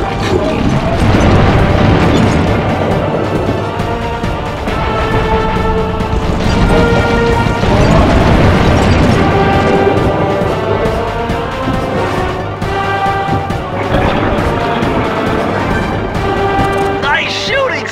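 Impacts and crashing hits land on the final boss of the Sly Cooper video game in a loud, dense battle mix of booms and smashes layered with music, continuous throughout.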